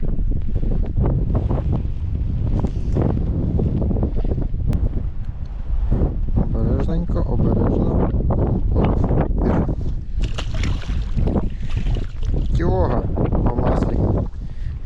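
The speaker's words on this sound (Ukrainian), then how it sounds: "дуже сильний вітер" Strong wind buffets the microphone in a constant loud roar, with gusty rumbling throughout and faint water sounds beneath, on a riverbank at Kaniv, Ukraine.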